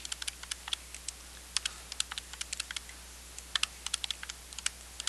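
Rapid, irregular keystrokes on a computer keyboard while figures are entered, with crisp clicks arriving in quick clusters and short pauses, close and fairly quiet over a low steady hum.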